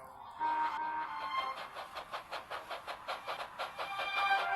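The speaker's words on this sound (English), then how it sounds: "Thomas secretly followed Emily. He puffed as quietly as he could." Animated toy steam engine Thomas puffing along a railway track, a steady rhythmic chuff of about a dozen evenly spaced puffs rising out of a brief whistle-like tone, close and moderately loud.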